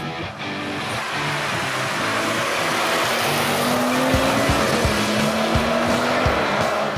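A BMW M235i xDrive with all-wheel drive runs on the road, its engine drone steady and close, with a rising tonal note and a few sharp transient bumps toward the end.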